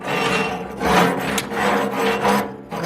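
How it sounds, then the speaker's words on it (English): A metal tool scrapes down the sidewall of a cookstove chimney in rough repeated strokes, harsh rasping bursts close by with brief gaps between passes. "Scraping it down."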